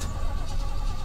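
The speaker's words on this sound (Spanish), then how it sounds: "El coche no volvería a arrancar nuevamente." A car engine in the horror game Fears to Fathom, Norwood Hitchhike, cranking roughly and failing to catch, a brief, dense burst of grinding mechanical noise with no clean start.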